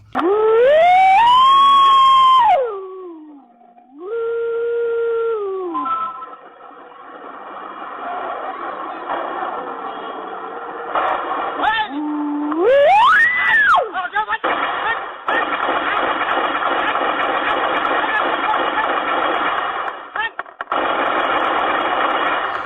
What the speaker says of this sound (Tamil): ஆம்புலன்ஸ் சைரன் பழங்குடியின மக்கள் எழுப்பும் சத்தம் ஜேசிபி சப்தம் தானாகவே ஸ்பீக்கரில் ஒலிக்கும்